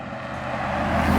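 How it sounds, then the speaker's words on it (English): A Mercedes-AMG G 63 SUV with a V8 engine roars steadily, rising gently as it accelerates, heard close up from inside the cabin, with a low, even drone and no talking. "That is the power of this V8 engine."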